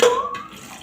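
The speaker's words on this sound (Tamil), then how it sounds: "கொஞ்சம் தண்ணி சேர்த்துக்குங்க" A short splash of water pouring into a cooking pot of eggplant and potato gravy, with a brief rising gurgle as it fills, close and fairly loud.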